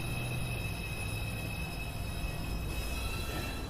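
A New York City Subway 2 train at an elevated station rumbles steadily with a broad roar of wheels on rail and thin steady squeals above, loud and close, with no voices.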